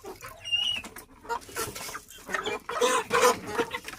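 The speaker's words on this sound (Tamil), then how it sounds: "இதா கிரே கோழி வந்துடுச்சு." Chickens, including a grey hen, cluck and call close by in short irregular bursts, with faint squeaky chirps between them and no talking.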